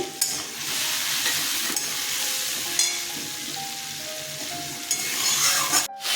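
Spice paste and green chillies fry in a pan while a spoon stirs them for a cabbage ghonto, a close, steady sizzle broken by scraping strokes and a few clinks, with no voices.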